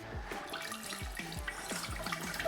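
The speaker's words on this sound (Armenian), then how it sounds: "Երկրորդ փորձով սմարթֆոնի վրա ավելի մեծ քանակությամբ ջուր" Water pours and splashes onto a Honor X8c smartphone during a water-resistance test, with a steady wet rushing broken by repeated gurgling drops and splashes, close and moderately quiet.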